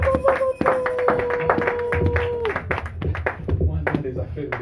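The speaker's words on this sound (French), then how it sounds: "Applaudissez." A church congregation claps during a sermon, loud, irregular hand claps in quick bursts mixed with voices and a sustained sung or spoken tone, people talking and calling out throughout.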